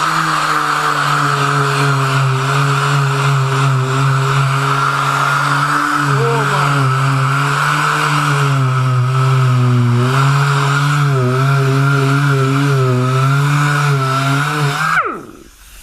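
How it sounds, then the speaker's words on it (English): A power sander grinds Bondo filler off the body of an El Camino during rust repair, a loud continuous motor whine with shifting pitch as pressure changes, running steadily before winding down at the end. "So I'm just going to sand this down and try to see what's under here."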